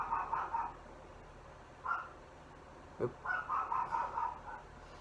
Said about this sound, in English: Yeah, that's my neighbor's dog.